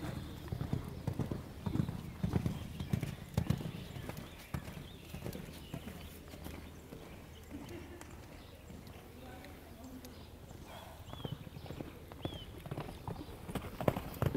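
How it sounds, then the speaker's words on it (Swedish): A horse's hooves thud and clop in uneven strides across a riding arena during a pole-jumping exercise. The hooves sound fairly faint and distant, and a person speaks over them at times. "Väldigt bra övning för Louise häst som är lite försiktig och spooky här."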